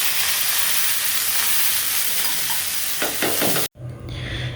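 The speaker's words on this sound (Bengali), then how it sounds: "তেলটা সুন্দর মতো গরম হবার পর প্রথমে চালটা দিয়ে দেবো" Rice fries in hot oil in a pan for khichuri, a loud steady hiss with stirring scrapes before a brief cut, then quieter sizzling.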